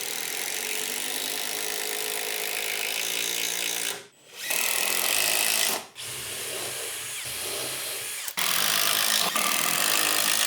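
A power drill driving 120 mm wood screws into a wooden workbench frame, loud continuous whirring broken by brief pauses as each screw seats, close and alone.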